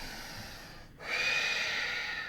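A deep breath during a yoga toning session: a soft inhale, a brief pause, then a longer, stronger airy exhale, close and alone.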